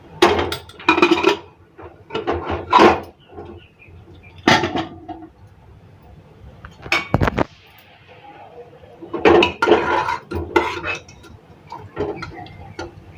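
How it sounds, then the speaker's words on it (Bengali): Metal kitchen clatter as a pressure cooker lid is opened after boiling potatoes and chickpeas for a curry, with several sharp clanks and knocks of pots among stretches of someone talking. "এবার প্রেসার কুকার ঢাকাটা খুলে নিচ্ছি।"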